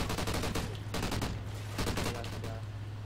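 LMG fire in a multiplayer shooter match: long, dense bursts of rapid gunshots with short breaks between them, loud and close throughout, with faint voices in the background.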